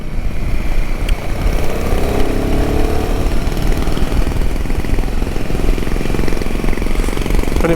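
Royal Enfield Himalayan 450 single-cylinder motorcycle engine pulling in third gear, a loud, rough, vibey drone close to the mic that rises slightly in pitch as it picks up speed.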